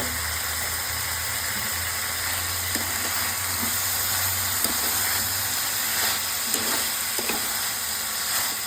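Vegetable stalks and small potatoes fry in a pan while being stirred, a steady close sizzle with occasional scrapes and taps of the spatula over a low background hum.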